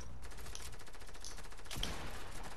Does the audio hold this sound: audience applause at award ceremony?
no